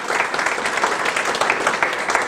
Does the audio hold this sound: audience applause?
yes